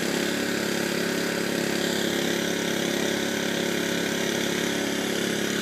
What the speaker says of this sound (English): you can see the ram is going up and down and is pulling the pipe.